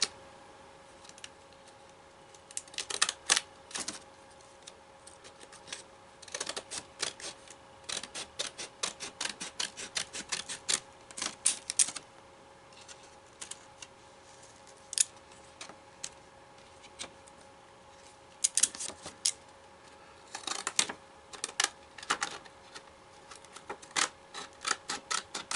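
Scissors snip through doubled-up card paper in quick bursts of crisp, close cuts, with short pauses between runs of blade clicks and a steady faint hum underneath.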